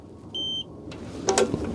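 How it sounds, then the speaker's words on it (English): A Tesla Cybertruck under-seat console safe's fingerprint lock gives one long, steady electronic beep, clear and close, followed by soft handling clicks and rustle. "1 long beep, and it's stored."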